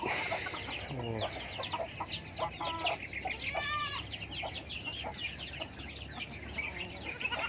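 Several chickens cluck and chatter nearby, with overlapping calls and squawks continuing throughout, steady and fairly loud.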